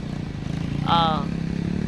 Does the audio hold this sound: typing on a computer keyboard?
no